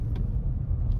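A car engine labouring in 5th gear at low road speed, a steady low droning rumble with road noise, close and continuous for a second.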